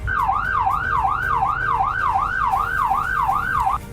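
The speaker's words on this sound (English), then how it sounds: "And as any ambulance should, this has lights and sirens to go with it." Roblox Greenville ambulance siren in its yelp mode: a loud electronic tone warbling rapidly up and down in about eight even cycles over nearly four seconds, close and unaccompanied, before cutting off.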